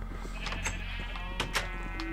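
Sheep bleating in the Minecraft video game, several short nasal bleats rising over a steady low game hum, with two louder cries near the middle and end of the stretch.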